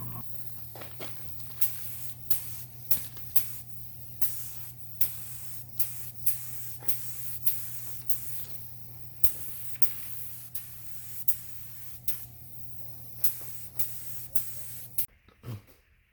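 Cerakote ceramic coating sprayed onto a turbo exhaust housing, repeated short hissing bursts from a spray gun over a steady low compressor hum, close and fairly quiet.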